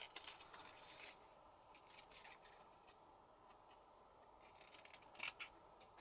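Scissors snipping around black cardstock pieces for handmade cards, quiet close clicks and short cutting strokes in scattered bursts, faint and without talking.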